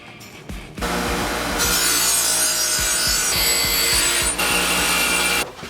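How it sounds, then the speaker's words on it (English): A homemade wrench being ground down with a power grinder for a front main seal job on a 1997 7.3 Powerstroke, a loud continuous grinding rasp that starts after a brief pause and runs steadily to the end, with no talking. "I guess I will grind it down."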